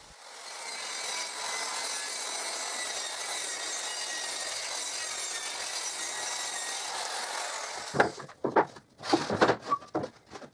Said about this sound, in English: And I cut the excess, so they fit with the dimensions of my circular saw.